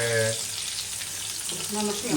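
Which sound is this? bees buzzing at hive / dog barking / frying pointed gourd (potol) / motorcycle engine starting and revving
frying pointed gourd (potol)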